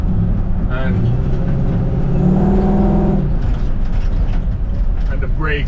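A 1960 Ford F100 truck with a swapped-in Mustang engine runs close by, a loud, steady rumble that rises briefly as it is revved.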